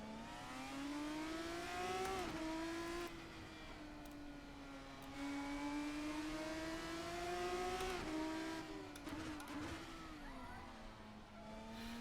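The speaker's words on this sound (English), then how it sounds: "Tires locking up." Formula 3 race car at the Nurburgring in Assetto Corsa, engine droning steadily with pitch dipping and rising as the tires lock and scrub under braking, with faint squeal.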